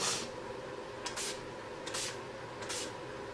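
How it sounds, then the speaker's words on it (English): Three short hissing sprays from an Urban Decay All Nighter makeup setting spray pump bottle, evenly spaced, close by over a quiet room. "want to wear it all day with this Urban Decay All Nighter Makeup Setting Spray"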